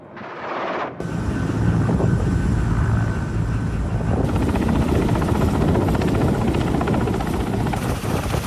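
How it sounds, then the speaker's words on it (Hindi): Loud, steady rotor roar of a Ka-52 attack helicopter close by, a dense continuous drone that fills the whole clip after a brief muffled start. "Ka-52 helicopter."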